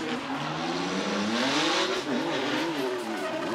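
Formula Drift Japan drift cars driven by Hibino and Fujimoto scream past in a loud, continuous engine howl, pitch rising and wavering with tire squeal and revving, no talk over it.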